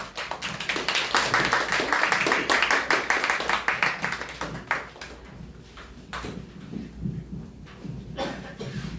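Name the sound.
audience clapping to welcome a speaker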